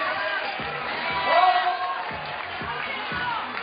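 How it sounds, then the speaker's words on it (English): Crowd at an Innsbruck bouldering World Cup men's qualification cheering a climber, a moderate swell of whoops and shouts peaking midway, with a commentator talking over it. "Jan Heiko was the one who's getting cheered by the crowd there."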